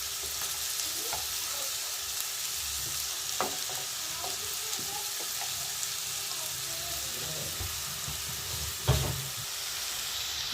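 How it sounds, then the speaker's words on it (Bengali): Turnips fry in spiced, salted oil that has separated from the masala. The pan gives a steady, bright sizzle throughout, broken by occasional scraping stirs and one louder clack near the end. "আমি এই পর্যায়ে শালগমগুলো দিয়ে দিচ্ছি"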